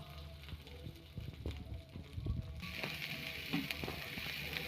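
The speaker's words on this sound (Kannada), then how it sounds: "ಸ್ವಲ್ಪ ಕಡಲೆಬೇಳೆ ಹಾಕ್ತಾಯಿದ್ದೀನಿ, ಈರುಳ್ಳಿ ಸಣ್ಣಗೆ ಹೆಚ್ಚಿಕೊಂಡಿರೋವು ಹಾಕ್ತಾಯಿದ್ದೀನಿ" Chana dal and finely chopped onion sizzle in hot oil in a pan, a steady close frying hiss with soft crackles that brightens midway as the onion goes in, no voices over it.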